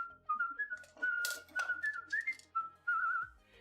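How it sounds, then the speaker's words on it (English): A person whistles a melodic tune alone, with a series of clear, bright sliding notes in short phrases, some softer clicks and rustles between them, fairly close and quiet. "The kids think my whistling is hilarious too"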